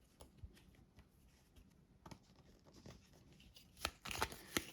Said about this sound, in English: Shuffle up initiative cards.